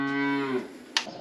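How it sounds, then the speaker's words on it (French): A cow in a dairy barn lets out one long, close, loud moo that slides downward and fades, followed by a few sharp rustling knocks nearby. "les vaches sont là"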